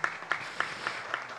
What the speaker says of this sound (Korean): 양채원 아나운서께 큰 박수 한번 부탁드립니다